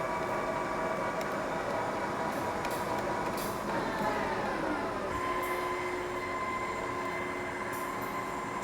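A machine spindle feeds into a 2000 HP power plant generator impeller, making a steady, loud mechanical whine and hum with shifting tonal squeals throughout.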